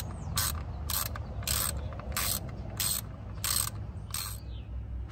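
Ratchet wrench clicking in seven rapid bursts, roughly evenly spaced, as bolts are loosened on the 3.6 Pentastar engine of a 2014 Dodge Journey AWD, set over a steady low hum, with no talking.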